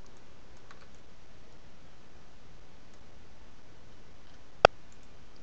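A single sharp key click from a computer keyboard, pressed as a shortcut during 3D UV mapping work, stands out clearly against faint steady background hiss, with one very soft tick earlier and otherwise near silence.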